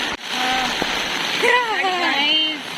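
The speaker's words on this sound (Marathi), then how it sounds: "पिछले 15 मिनट से बारिश हो रही है" Steady, dense rain hiss fills the whole stretch, with a voice singing or speaking over it in bursts.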